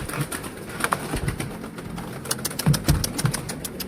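Homing pigeons coo softly amid fluttering and scuffling sounds, a few low calls scattered over a quiet background.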